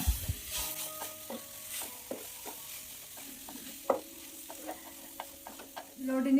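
Mashed potato filling for aloo paratha is stirred in a pan with a spatula, giving soft intermittent scrapes and taps over a low sizzle, close by and moderately quiet, with no talking.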